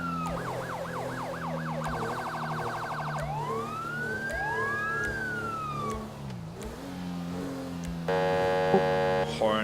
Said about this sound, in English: If you then press your siren key